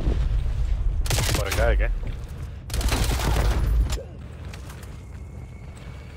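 Explosions and gunfire from Call of Duty Black Ops Cold War: two heavy booming bursts with rapid shots, each lasting over a second, then a quieter rumble, while players talk in German.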